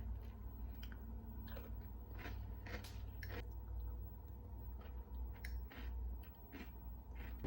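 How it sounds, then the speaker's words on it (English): Close chewing and crunchy bites of a sandwich, repeated at an unhurried pace over a steady low hum of air. "I'm just going to eat my sandwich for lunch"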